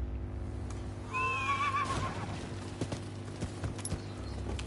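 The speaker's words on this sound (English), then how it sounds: "we've got the steed sorted out now" A horse in the video game Rise of the Ronin gives a single clear whinny, followed by a few hoof clops against a low ambient background.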